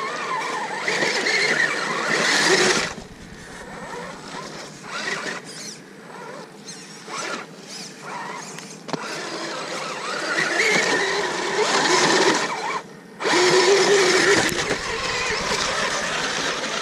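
An RC scale truck's electric motor whines steadily as it climbs a hill during a tyre test, the high buzzing drive rising and easing with throttle, briefly cutting out twice, with no talk over it.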